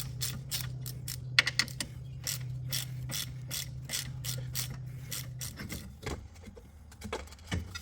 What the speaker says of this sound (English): the aggravation of trying to hold the stem while loosening the nut